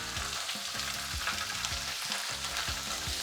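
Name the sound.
meat browning in a hot pot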